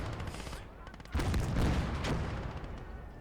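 Distant, muffled gunfire bursts from a World War II battle in the strategy game Call To Arms: Gates Of Hell, with a heavier thump partway through and low rumbling that continues after it.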